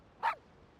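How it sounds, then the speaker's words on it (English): A dog in the Wuthering Waves game gives a single short, sharp bark. It stands out against an otherwise quiet background. "Aw, what a cute doggy."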